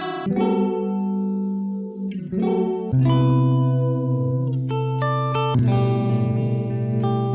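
Sustained synth tones with a smooth, wavering sine-wave modulation effect from the SSL Module8 plugin sweeping through them, several chord changes, heavily processed and loud with no talking.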